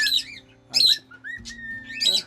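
A trained pet bird sings a close series of clear, whistled phrases, with bright chirps and sliding tones separated by brief pauses.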